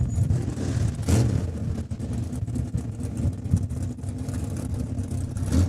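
Mopar drag cars, Dodge Darts among them, rumble and rev at Saskatchewan International Raceway in Saskatoon, a steady loud engine roar with surging throttle and outdoor noise, no talk.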